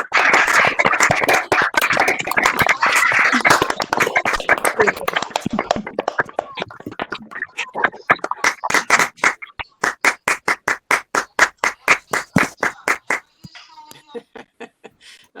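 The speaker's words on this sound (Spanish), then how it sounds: "Ahí sonó el último aplauso." Collective applause in an online meeting, with many participants clapping through their microphones at once, loud and dense at first, then thinning to one person's steady, evenly spaced claps that fade out, with a little voice mixed in.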